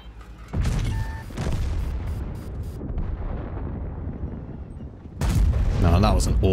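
A tank cannon fires in World of Tanks, giving a heavy boom with a long rumbling tail, then a second blast near the end, with someone talking briefly.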